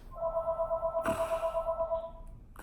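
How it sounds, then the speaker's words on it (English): A phone rings with a steady pulsing electronic tone that repeats about twice a second, loud and close, then stops near the end. "phone going off."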